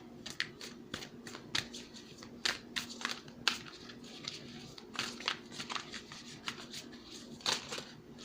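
Tarot and oracle cards are shuffled close up, with soft irregular flicks and riffles, quiet against a faint background hum.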